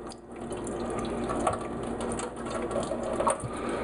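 Water runs through a hydration bladder's bite valve and hose during cleaning, a steady close trickling gush with small gurgles and clicks.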